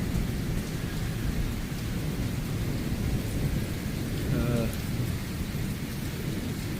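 Light rain falling at night in Pothwar, a steady soft patter with a low rolling rumble of thunder building in the middle, continuous and fairly even, with no voices.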